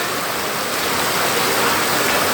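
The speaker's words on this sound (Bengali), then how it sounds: "চাঁপাপুর বাজার করিতলা প্রচুর পরিমাণের বৃষ্টি হচ্ছে।" Heavy rain pours down steadily over a market, a dense, continuous hiss and roar close by with no letup and no voices.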